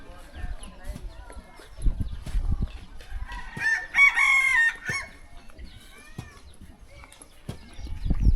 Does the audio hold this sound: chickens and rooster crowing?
yes